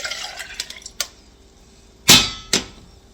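Water splashes as a tomato can is rinsed and poured into a pot of tomato basil soup, a few short drips early on and two louder sloshing pours near the end.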